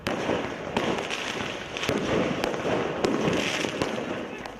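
Fireworks bursting during street protests in Lebanon, a dense run of sharp cracks and pops scattered irregularly over a constant loud crowd roar, some bangs closer and louder than others.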